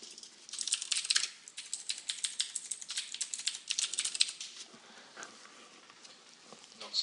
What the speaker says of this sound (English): It worries me when I can hear typing but not see typing.